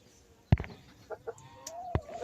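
A white laying hen in her nest gives a few short, close clucks and soft vocal sounds, spaced irregularly against a quiet background.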